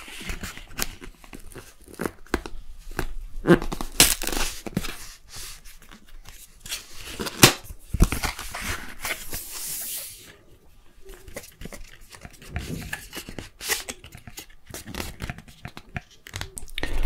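Apple Watch 8 packaging being opened up close, with bursts of tearing, crinkling paper and scratchy handling noises in irregular clusters, quiet pauses between, no talk.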